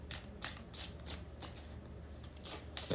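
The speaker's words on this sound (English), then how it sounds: "Cancer Collective, 3 more shuffles." Tarot cards shuffled by hand in repeated riffling bursts, soft papery flutters at a steady rhythm, fairly quiet and close.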